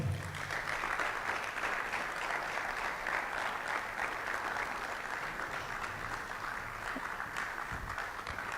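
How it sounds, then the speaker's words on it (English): Audience applause welcoming guest Derek Boateng onto a sports talk stage, a steady dense wash of many hands clapping that holds evenly for several seconds. "With the biggest round of applause, ladies and gentlemen, let's put our hands together for Derek Boateng"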